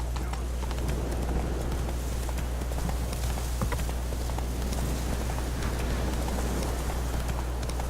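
Geralt's horse Roach in The Witcher video game, steady rhythmic hoofbeats of a trot over a constant low rumble and ambient wash, with a voice partly heard over the hooves.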